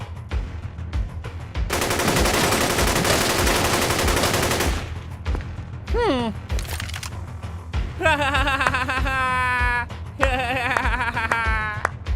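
Bursts of Kalashnikov automatic gunfire in a Roblox game, a dense rattling volley for several seconds, followed by scattered whistling, warbling game effects and bleating-like tones.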